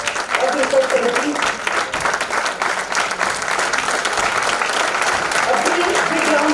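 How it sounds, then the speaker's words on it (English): A conference audience at an international gathering breaks into loud, sustained applause for a faculty research committee, a dense wash of many clapping hands that keeps going throughout. "A big round of applause for all the faculty members of the research committee."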